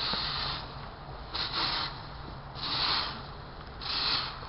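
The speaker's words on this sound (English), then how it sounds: "This one, particularly, is raking the leaves." Leaves raked in a yard, four broad rasping sweeps at a steady, unhurried rhythm, each a soft scraping hiss rising and fading, fairly close with no talk.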